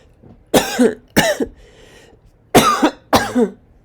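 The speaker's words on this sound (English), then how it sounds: "have a slight cough" Four sharp, loud coughs in two pairs, close to the listener, with quiet pauses between them.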